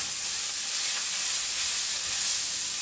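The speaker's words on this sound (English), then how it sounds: "putting the eggs into the pan after the sausage had fully cooked, so that the juices from the sausage kind of cook into the egg" Eggs frying in a pan in the leftover juices of fully cooked sausage, a steady close sizzle and hiss running unbroken throughout with no voices.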